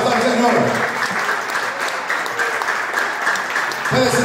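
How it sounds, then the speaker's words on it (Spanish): A church congregation claps together in sustained, dense applause, loud and close, with voices mixed in throughout. "Y podemos darle una ofrenda de palmas al Señor."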